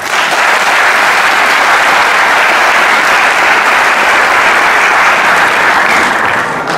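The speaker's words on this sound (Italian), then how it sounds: "rivolgiamo un grande applauso a questi ragazzi." Loud, dense applause from an audience at a political list presentation for a Locri mayoral campaign, honouring young candidates. It holds steady for several seconds, then eases slightly at the end.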